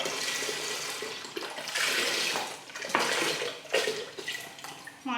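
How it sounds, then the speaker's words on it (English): Water runs steadily into a container, a rushing, splashing pour with slight surges in level, close by and without any talking. "I'll just fill one of these up with a bit of water."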